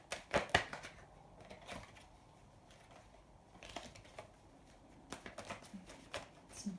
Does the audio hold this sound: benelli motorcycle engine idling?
no